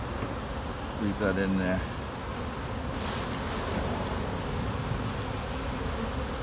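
Honey bees swarming at an open hive during a honey flow, a dense continuous buzz filling the scene, with a person speaking briefly over it early on.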